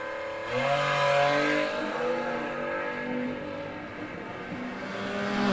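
A 6-cylinder drag race car engine revs hard, its pitch rising and falling in several surges with a sustained roar, loud and close at a New Year's drag racing event.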